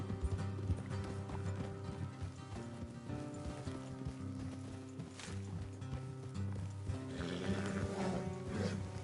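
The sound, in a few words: horses galloping in a video game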